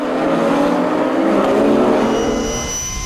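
Race cars in a tight pack at the Paul Ricard circuit roar by loudly, a dense blend of engine notes that holds steady and then starts to thin as the field pulls away.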